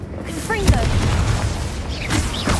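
A fire-blast spell from Hogwarts Legacy goes off as one short, sharp boom with a crackling burst, set among whooshing magical tones and faint game ambience.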